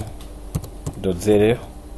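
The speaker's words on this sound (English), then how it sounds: "you hit enter yes then you type in your username" Several distinct clicks of keys on a computer keyboard are heard, followed by a brief voiced sound near the middle and a couple of softer taps.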